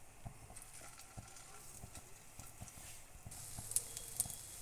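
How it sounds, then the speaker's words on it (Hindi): Egg-coated mutton shami kababs frying in a pan give a faint, steady sizzle with scattered soft crackles and a few sharper pops toward the end. "अब मैं इनको अंडा लगा के फ्राई कर लूँगी।"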